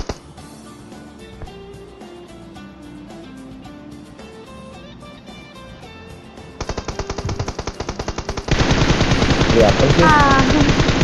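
Rapid bursts of automatic gunfire in a shooter video game, starting under game music and then growing into loud, dense continuous firing; players talk excitedly over it.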